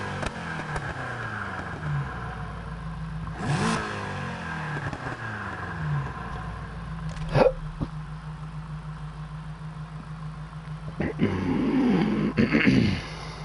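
A Ferrari F40 LM in Need for Speed Heat, fitted with a custom exhaust, idles with a steady low drone and revs up in several sweeping bursts, then a louder surge near the end, under faint talk.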